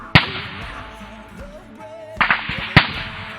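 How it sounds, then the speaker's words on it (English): Gunfire in a firefight, sharp cracks heard over radio chatter, one at the start and a cluster near the end, loud and close against a steady hiss of radio noise and tonal interference. "we got fire from the northeast and southwest"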